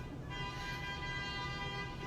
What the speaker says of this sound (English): I don't know if you can hear that crazy honking